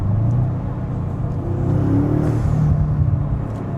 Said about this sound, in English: just want a little bit of induction noise, this is what you want